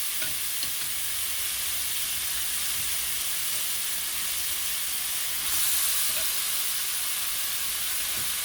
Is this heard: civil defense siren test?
no